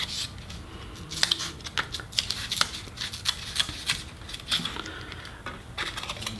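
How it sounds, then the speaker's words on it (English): A razor blade cuts into paper model material, making a series of scattered sharp, crisp snips and scrapes at close range over a steady low background, with no talking. "if we cut down far enough, close enough to the paper, this is going to come out in one nice clean chunk"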